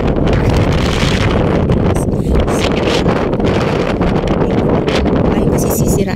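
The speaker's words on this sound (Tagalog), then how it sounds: "Mahangin, sobrang hangin." Strong outdoor wind buffets the microphone in a loud, continuous roar with gusty surges and rustling, while a voice talks faintly underneath on an overcast day.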